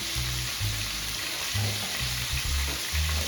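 Tandoori lamb skewers sizzle loudly over heat and are turned, the steady hiss broken by several low thumps and scrapes as they shift; no one speaks.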